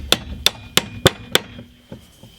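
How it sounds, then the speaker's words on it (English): Five sharp, evenly spaced hammer knocks driving keys into concrete wall forms on a house build, close and loud, followed by two fainter taps. "you use your hammer, and you hook on the key and you can pull the key to you to make it fall into its lock place"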